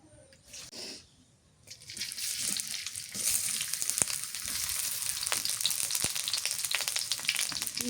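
Onions fry in hot oil, browning for a crisp garnish in a home kitchen: quiet at first, then a continuous bright sizzle with small crackles that holds steady to the end.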